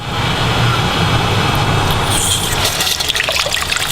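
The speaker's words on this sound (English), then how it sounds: "there's a valve in here that will open up and allow water to come through" Water rushes steadily through a float-controlled autofill valve into a water feature, a constant close gushing with some splashing toward the end.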